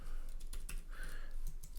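Typing on a computer keyboard, a steady run of close, crisp keystrokes, with several sharper clicks standing out against a soft hum.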